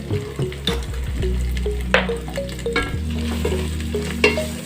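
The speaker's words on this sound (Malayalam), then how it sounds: "ഇതിൻ്റെ പച്ച മണം പോകുന്നത് വരെ നന്നായിട്ട് വഴറ്റിയെടുക്കാം" Ginger and garlic paste sautéing in a pan for beef biryani, a steady sizzle broken by frequent scraping stirs and clanks of a utensil against the pan, with a low hum running underneath.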